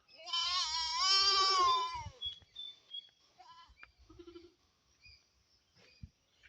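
A goat gives one loud, quavering bleat up close in a damp farmyard, followed by scattered quieter rustles and small knocks.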